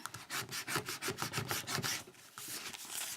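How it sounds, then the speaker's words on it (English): Bone folder pressed and rubbed over tape on a flat paper mailbox, soft quick irregular scraping strokes close by but quiet. "just get your bone folder and literally just push down all that tape on all of them"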